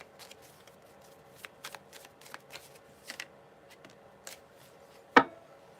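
Oracle cards from a Fairies Oracle deck shuffled by hand in a quiet room, a series of soft riffling bursts and taps with one sharper, louder snap near the end.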